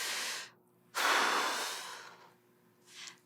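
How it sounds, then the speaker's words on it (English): Forceful, drawn-out breath exhaled hard through the mouth as ribs squeeze the lungs empty, a long airy rush lasting over a second after a shorter breath, with a fainter breath at the end, close and alone. "expel your air as strong and as long as you can, using your ribs to squeeze every bit of air possible out of your lungs"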